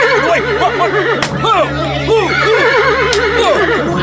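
A horse whinnies repeatedly in a horror audio drama, several loud, wavering neighs close by with brief sharp knocks between them.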